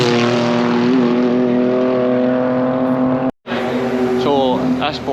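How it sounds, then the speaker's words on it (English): A BMW E92 M3 engine at Knockhill track holds a deep, steady drone, cuts out for a moment, then revs up in quick rising bursts. "The old E92 M3, the engine's just fantastic in it."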